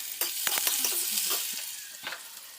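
Chicken sautéing in a pan at home, a soft continuous sizzle with scraping stirring strokes from a utensil, moderately close and fairly quiet, with no talking.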